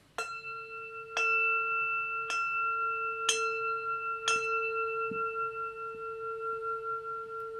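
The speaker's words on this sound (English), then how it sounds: "So, I'm going to ring a bell." A bell rung repeatedly, five clear metallic strikes at roughly one-second intervals, each ringing on with a sustained resonant tone that overlaps the next, close and fairly loud with no talking.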